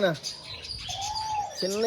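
Small owl finches chirp in a bird shop, a few thin tweets and a longer rising call over low background murmur, with birds for sale all around.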